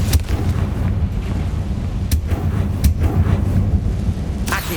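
Booming blasts of the Confringo fire spell in the Hogwarts Legacy PC game land in quick succession, each one a sharp crack over a dense, rumbling wash of combat noise.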